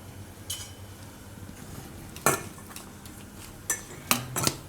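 A spoon stirs spices in a pan of bitter gourd being prepared, a few sharp metallic scrapes and clinks spaced irregularly against a quiet kitchen background.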